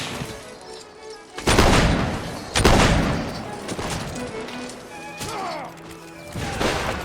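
Musket volleys crack out in Mount & Blade: Napoleonic Wars, with two big broadband bursts near the start and scattered lesser shots and battlefield clatter afterward, all on a constant background din.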